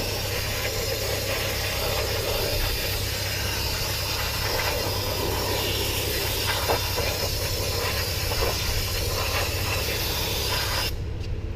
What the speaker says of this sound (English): So after I'm done with that, I will take brake clean.